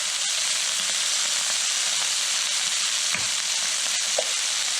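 Baleada filling sizzling loudly in a hot pan in Honduras, a constant dense frying hiss with occasional soft scrapes of stirring, close and without talk.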